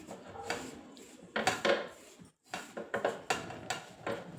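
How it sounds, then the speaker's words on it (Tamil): Murukku dough is mixed by hand with ghee in a bowl, producing irregular soft thuds, scrapes and light clinks in quick bursts, with a brief pause midway. "கொஞ்சமாக நெய் விட்டுட்டு இப்போ என்ன செய்யணும், மாவை ஒன்று போல் கலந்து விட்டுக்கணும்"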